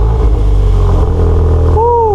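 Modified exhaust on a Volkswagen MK8 Golf R rumbling loud and close, with a steady low engine drone and rising revs toward the end; no talk over it.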